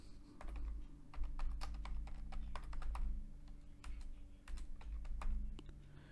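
Rapid key taps on a computer keyboard as a name is typed in, close and fairly quiet, in irregular bursts over a low steady hum.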